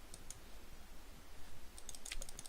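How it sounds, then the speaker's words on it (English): Mouse buttons click sharply at a computer during an online Magic: The Gathering Commander game, a few sparse taps early and then a quicker flurry of clicks near the end over a steady low hiss. "I don't know if you could hear the clicking of my mouse through my microphone"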